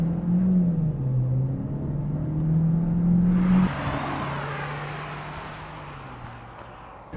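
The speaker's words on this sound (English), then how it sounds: "let me switch it to Sport mode and show you how it accelerates." Geely Cityray 2026 accelerating hard in Sport mode, a steady engine drone with tones rising and shifting for several seconds, then broadband road and wind rush swelling as speed builds, heard from inside the car with no talking.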